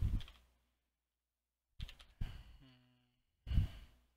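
A few sparse keystrokes on a computer keyboard while setting up an administrator account, soft close taps in short clusters separated by silence, with an audible sigh.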